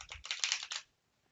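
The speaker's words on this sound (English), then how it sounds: "It's riffle shuffled quite nicely for me so far." A tarot oracle card deck being riffle shuffled, a quick close flurry of crisp card clicks lasting under a second, then quiet.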